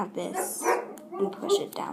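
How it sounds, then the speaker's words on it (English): A dog barks a few short sharp times indoors, close by, mixed in with a person talking during a rope bracelet demonstration. "Sorry about my dog."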